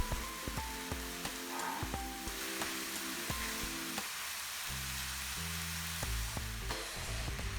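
Green peas and corn kernels sizzle steadily in a hot pan with carrots for a home-made shepherd's pie, with a continuous frying hiss and occasional clinks of stirring.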